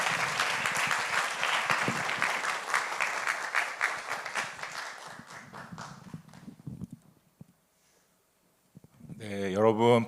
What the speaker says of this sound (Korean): 우리가 나오실 때 박수로 환영하도록 하겠습니다.